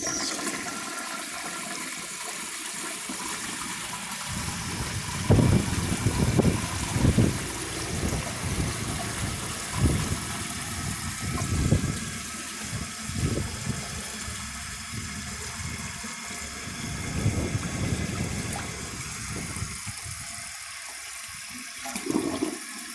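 A 1951 Kohler Wellworth toilet tank refills, a steady hiss of rushing water running continuously, with gurgling surges and swells that rise and fall over the whole stretch.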